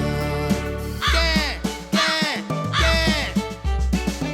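Three loud, rasping crow caws ring out in a row over a steady musical backing.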